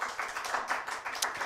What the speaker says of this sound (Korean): 우리 청년들에게 한번 박수를 쳐줄까요?